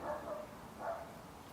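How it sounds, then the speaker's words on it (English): Dogs barking somewhere off in the background during outdoor koi pond pipework, two short bursts of barking, moderately faint and distant. "Sorry about the dogs in the background making all that noise."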